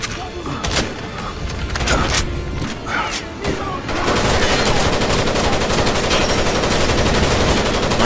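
Bursts of automatic gunfire from the video game Rainbow Six Vegas 2, loud and close, with several sharp shots early on and then a steady sustained stream of rapid fire, with a voice speaking intermittently over it.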